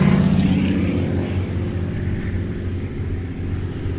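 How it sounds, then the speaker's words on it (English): A propeller plane passes low directly overhead, a loud steady droning engine rumble that fills the whole stretch and slowly eases, heard outdoors in a cemetery. "Another plane right over top of us."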